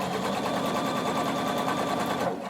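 A sewing machine runs steadily at a fast, even stitching rate while understitching a facing close to the edge on a pair of shorts or pants, then stops abruptly near the end.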